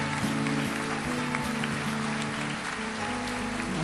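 A church congregation applauding during a worship service, a soft, rain-like patter of many hands clapping continuously under sustained musical tones.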